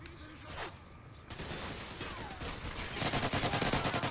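Gunfire from the video game Modern Warfare 3 comes as dense, rapid bursts that build louder toward the end, with clattering shots over constant game noise.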